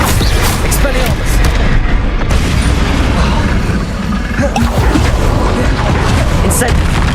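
Spell-casting in the Hogwarts Legacy video game: a dense, booming magical blast and rumbling effects fill the whole stretch, loud and continuous, with a voice talking underneath.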